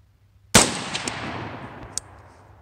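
A single sharp, loud rifle shot fired with a Holosun red dot sight at a field range around 50 yards, with a sudden crack and a long fading tail and a few faint ticks after.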